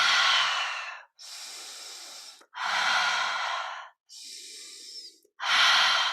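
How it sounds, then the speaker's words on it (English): Deep, forceful breaths during guided breathwork: long rushing inhales and exhales alternating with short pauses, about five breaths, close and loud, with no speech. "Just keep breathing."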